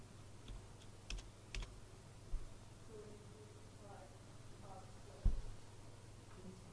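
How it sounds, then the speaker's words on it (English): A few sparse computer keyboard keystrokes, typing in a measurement during a construction drafting session, land as faint scattered clicks over a steady low hum, with one louder tap near the end. "Then I'm going to come across to the left and type in my distance, 1310."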